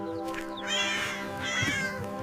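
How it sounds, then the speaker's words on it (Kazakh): A cat meows in drawn-out, tonal calls, two or three clear mews rising and falling, close and prominent over a faint musical backing. "Ал мысықтың баласы марғау ғой, кіп-кішкентай сүйкімді ғой."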